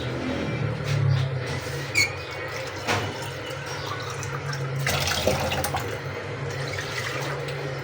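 Water pours and splashes into a frying pan nearby, a continuous gurgling flow with a few clinks and bumps.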